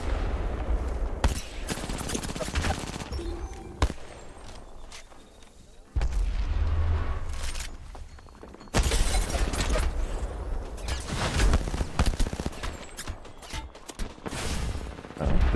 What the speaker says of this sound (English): This guy is shooting me with a wingman from all the way over there.